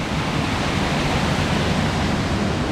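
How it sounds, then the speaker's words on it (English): A waterfall at Delaware Water Gap roars as a dense, unbroken rush of water, loud and close, steady throughout with no voices over it. "there's a set of two cute little waterfalls over here"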